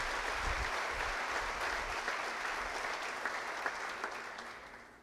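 Congregation applauding for Jesus during a family church service, a dense wash of clapping from many hands that fades gradually, with a few sharper claps standing out near the end.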